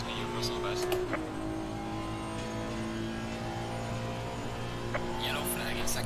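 Engine of a Honda NSX GT3 in the racing game Assetto Corsa Competizione revs through VTEC, a fairly faint, steady high-pitched drone with shifting harmonic whine and a few short changes in pitch.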